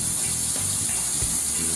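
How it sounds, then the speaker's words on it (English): Very hot tap water runs steadily into a pot for a quick rinse in a home kitchen while cooking shrimp scampi alfredo, a continuous close splashing hiss with a brief gush partway through, no talking. "Very hot water. Just give it a quick rinse"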